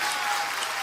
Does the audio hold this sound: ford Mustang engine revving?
no